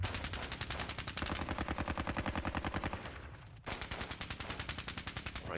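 Rapid, sustained gunfire from the World War II strategy game Squad Battles Red Victory, set at Ponyri: dense automatic bursts rattling in a steady rhythm, loud and continuous, with a brief pause before the firing resumes.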